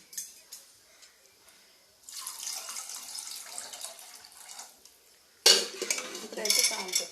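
Water is poured into a cooking pot of rasam in a kitchen, with quiet clinks and then a louder burst of splashing as more water goes in.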